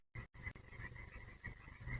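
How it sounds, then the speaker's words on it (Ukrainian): Many frogs croak together at night near a building plot, a dense chorus of repeated calls with a faint steady insect-like hum, heard alone after a short dropout. "тут є дуже багато жаб. І всі вони вночі прокидаються і починають квакати."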